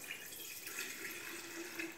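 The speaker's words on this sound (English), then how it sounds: "Oh, sorry, I'm pouring it everywhere." Liquid being poured and spilling during gin making, a thin continuous trickling splash with faint bubbly tones, soft and close, with no talk.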